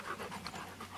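Dogs pant close by outdoors near a creek bed, producing a quick, rhythmic run of breathy huffs that is fairly faint and continuous.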